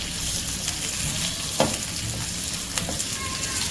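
Onions sautéing in a hot pan for chilli paneer, a steady close sizzle and crackle with a couple of brief stirring scrapes, no talking.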